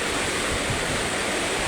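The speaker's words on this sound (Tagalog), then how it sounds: "dito kami mga idol sa Rumaragasang tubig sa sapa" A creek's water rushing loudly and steadily as a dense, unbroken roar, close by, with no voices.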